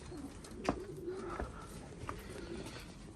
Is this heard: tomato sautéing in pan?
no